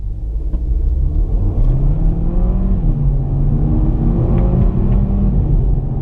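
Volkswagen Golf TSI 150 with a seven-speed DSG gearbox accelerating, a loud steady engine drone and low road rumble from inside the car, pitch rising smoothly with no talk.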